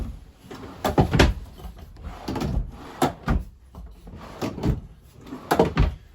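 Drawers in a 2022 Wildwood 169RSK travel trailer are pulled open and pushed shut several times, giving sharp, close wooden knocks and sliding thumps in irregular bursts with quieter pauses between.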